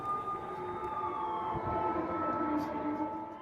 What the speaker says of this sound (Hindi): बेलगोरोद से लेकर मॉस्को तक सायरन बज रहे हैं।